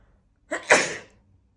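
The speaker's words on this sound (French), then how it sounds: "désolé, je vais bientôt éternuer" A single sharp sneeze, close and loud, preceded by a quick inhale, then silence.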